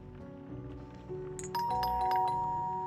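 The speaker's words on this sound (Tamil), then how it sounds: "கரெக்டா நம்ம உட்காரும் போது பெல் அடிச்சுட்டு இருக்காருங்க" A doorbell chimes in a horror game, its bright ding-dong tones ringing out over low ambient background sound midway through.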